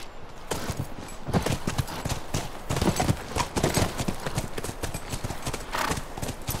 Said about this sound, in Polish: Wracajmy na konie.